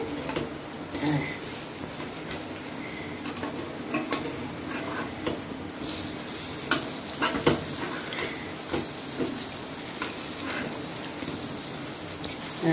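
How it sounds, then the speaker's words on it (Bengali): Banana fritters (kolar chop) shallow-frying in a little oil, a continuous close crackling sizzle with occasional scrapes and bumps of a spatula as pieces are pressed and turned. "কম তেলে যেটা আপনারা ভাজবেন সেটা একটু সময় লাগবে, ধৈর্য ধরে আস্তে আস্তে চাপা দিয়ে দিয়ে ভাজতে হবে।"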